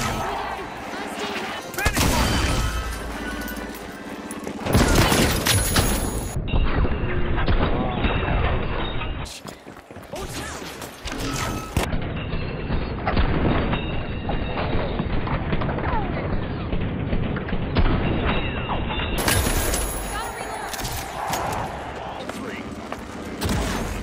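Gunfire, including shotgun blasts, in the arena shooter video game The Finals: loud, dense bursts of shots with mechanical clatter throughout, under excited talk from a player.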